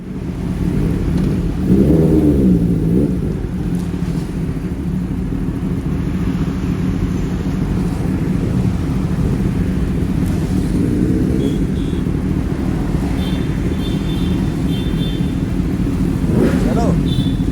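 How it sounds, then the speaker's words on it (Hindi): Kawasaki ZX10R superbike fitted with a full Akrapovic exhaust system, ridden on a wet road, gives a loud steady engine drone with a brief rise in revs early on, mixed with wind noise. "ZX10R, जिसमें कि एक्रोपोविक सिस्टम लगा हुआ है, फुल सिस्टम।"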